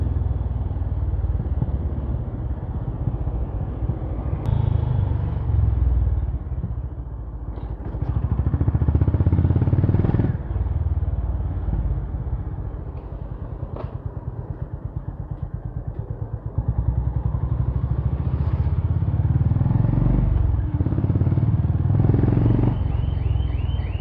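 A motorcycle engine and exhaust rumble steadily while riding on a road, loud and close for the whole stretch, with the note swelling and easing as the throttle changes and some clattering over bumps.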